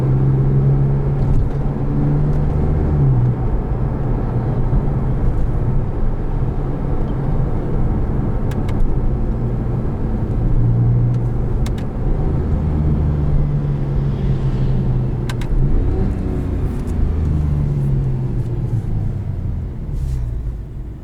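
A 2010 Porsche 997 Carrera 4S with a PDK gearbox drives along, its engine a steady, close droning rumble with slight shifts in pitch and constant road noise throughout.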